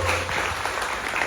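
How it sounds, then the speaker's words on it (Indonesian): Audience applause at an evening thanksgiving celebration marking the renovation and new concept of Hunter Park & Bistro in Cawang, a dense, steady wash of clapping that fills the whole short moment. "Boleh beri tepuk tangan yang paling meriah untuk Hunter Park Cawang & Bistro"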